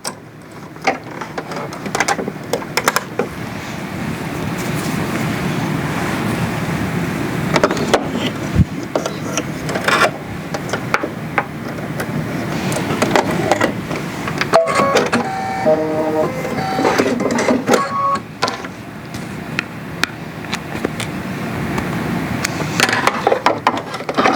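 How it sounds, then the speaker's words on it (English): Sewing machine stitching in short and longer bursts, a busy mechanical whirr and clatter with small pauses, close up and without speech. "I'm just going to back my machine up a couple stitches and start again."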